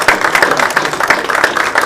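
Dense clapping from an audience at a parish annual meeting, close and fairly loud, with a steady patter of hands throughout the short burst.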